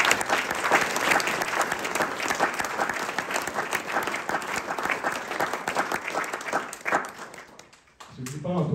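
An indoor audience at a farewell for a diocesan bursar applauds in a dense, sustained burst of clapping that fades out near the end, followed by a voice.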